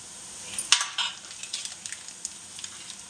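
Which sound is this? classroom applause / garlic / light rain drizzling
garlic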